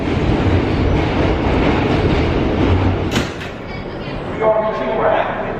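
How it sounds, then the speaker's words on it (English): A subway train rumbles loudly up close and rushes past at Briarwood station, then the roar drops away and a brief two-tone signal sounds. Voices talk over it. "Train's flying in."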